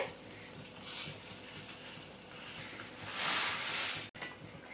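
Raw mango pieces cooking in a pan on a high flame, giving a soft, steady sizzle with a few louder hissing swells and a sharp clack near the end, and no one speaking.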